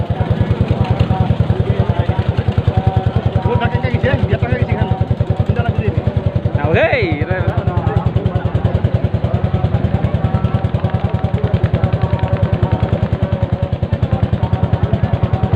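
A motorcycle engine runs steadily and close by throughout, with a rough, pulsing idle and people talking over it.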